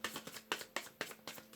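Tarot cards riffled in a short run of crisp, rhythmic bursts, about five quick flicks spaced evenly, close and fairly quiet with no talking.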